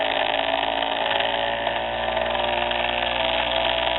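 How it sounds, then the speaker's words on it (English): A Bedini motor's rotor spins steadily with a continuous whirring, buzzing hum, close and fairly loud, its pitch holding broadly even as an energized coil is brought near to speed it up. "And now I'm going to take this coil and bring it in. Hear the rotor speed up."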